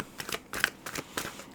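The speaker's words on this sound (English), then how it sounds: "I feel like we just need to keep shuffling for a little bit longer." A deck of tarot cards is shuffled in quick riffling bursts, about four or five short rustling snaps, close and fairly quiet with no talking.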